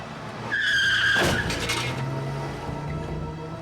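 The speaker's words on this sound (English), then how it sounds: "The car sped away and disappeared around a corner." A car speeds off with a sharp, loud tire squeal and a brief screech, then its engine drone fades away.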